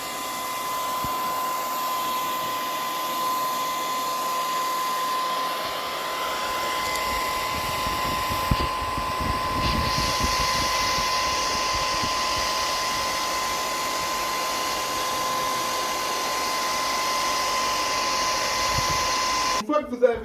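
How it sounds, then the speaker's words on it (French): A hair dryer heats a Huawei P30 Lite phone to loosen the glue on its back, a constant whirring blow with a steady high whine running unbroken for the full length, with a brief clatter at the end. "vous allez utiliser le sèche-cheveux. Vous allez le faire chauffer pour tout enlever"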